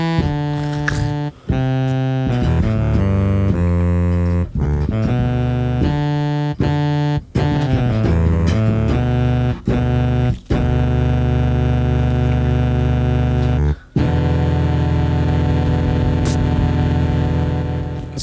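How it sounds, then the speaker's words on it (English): An alto saxophone plays a loud, busy run of sustained and quick notes close to the microphone, with brief gaps for breath, ending on a long held tone. "And that's the sound an alto sax makes."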